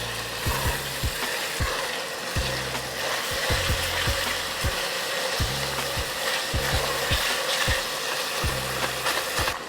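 Ground meat browning in a hot pan, a loud steady sizzle broken by repeated scraping and stirring knocks at a regular pace, with no talking.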